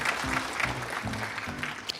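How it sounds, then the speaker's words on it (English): A church congregation gives a short round of applause, a steady patter of many hands lasting about two seconds, with a voice faintly underneath. "Big round of applause."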